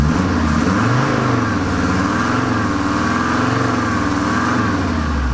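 A Luton van's diesel engine idles loud and close, a smooth, steady rumble with an even low throb that holds unchanged throughout.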